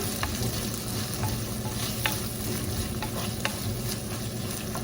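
Onion sautés in a pan over a medium-high flame for a cabbage dish: a dense, continuous sizzle with occasional soft pops and scrapes, and no talking.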